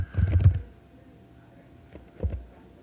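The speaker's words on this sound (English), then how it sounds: "and then I'm going to type my name" A name is typed on a computer keyboard as two short, close bursts of soft key taps separated by a quiet pause, with no talking.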